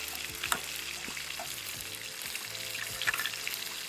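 Butter sizzles in an overly hot pan before steak goes in, a constant close crackling hiss with occasional sharper pops and a faint low hum underneath.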